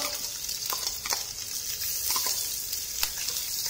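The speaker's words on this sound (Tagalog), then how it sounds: "Yung pong bawang ay hindi po natin diniktik, instead ginisa po, ginayat natin siya." Garlic sautéing in a pan for chicken adobo, giving a steady, close, hissing sizzle throughout with small crackling pops here and there and no talking.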